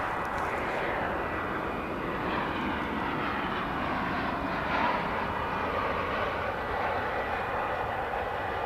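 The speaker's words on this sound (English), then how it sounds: "That's an A320 coming at us with the sun" An Airbus A320 airliner on approach to DFW Airport gives a steady broadband jet roar with a faint whine, moderately distant and fairly even throughout, alone without talk.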